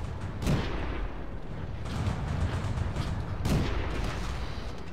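Booming tank cannon shots from World of Tanks, two heavy blasts about three seconds apart, with low rumbling engine and battlefield noise filling the space between them.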